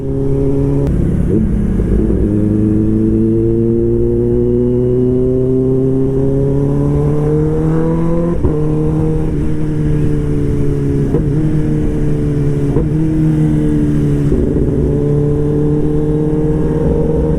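A Kawasaki ZX-10R motorcycle engine revs loudly and continuously nearby, its pitch climbing and dipping through repeated throttle blips over a sustained, booming exhaust note.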